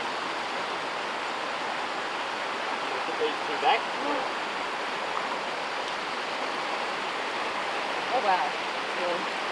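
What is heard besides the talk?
fresh flowing creek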